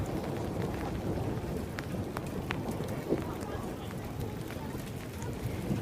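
Rain pours steadily during a thunderstorm, a dense hiss and patter with a low rumble underneath, while people talk faintly beneath the downpour.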